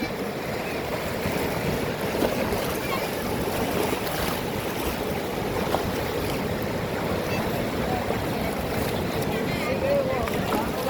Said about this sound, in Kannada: ಅದಕ್ಕಿಂತ ಬಿಟ್ಟು ವರ್ಷ ಪೂರ್ತಿ ಓಕೆ ಇದು ಹರಿದು ಬರುತ್ತೆ ತುಂಗಭದ್ರಾ ನದಿ